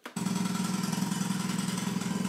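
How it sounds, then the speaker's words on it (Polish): Steady, loud jackhammer noise played back as a test sound for noise-cancelling Bluetooth headphones, starting abruptly after a brief silence and hammering continuously at a fast, even rhythm with no talk. "tu puszczam młot"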